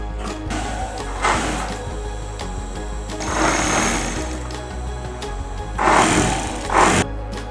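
A sewing machine stitches cloth for a kapok cotton mattress in several bursts of rapid mechanical whirring, with quieter pauses between runs.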